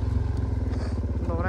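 A dirt motorcycle engine pulsing close up in second gear as it rides over a ditch, a throbbing rapid beat with a rising note at the end, under someone talking.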